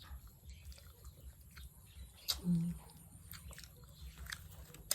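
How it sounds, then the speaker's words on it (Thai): Cooked beef larb served with basil is chewed close up in soft, faint bites and mouth sounds over low background noise. "อาจจะเคี้ยวยาก"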